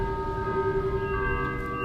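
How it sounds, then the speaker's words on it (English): Church bells ring across a neighborhood at half past noon, heard as sustained, steady ringing tones that hang in the air from a distance for the whole brief moment, with no talking. "the bells at the church go off and you can hear them throughout the neighborhood"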